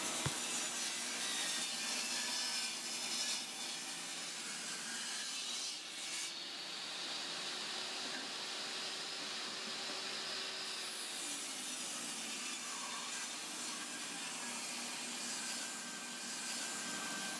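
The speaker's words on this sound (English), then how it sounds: "Here I rip the 22-inch long 2x4s in half." Saw ripping 22-inch 2x4 wood boards lengthwise into halves, a steady loud buzzing cut that runs nearly continuously, with a brief shift in pitch partway through.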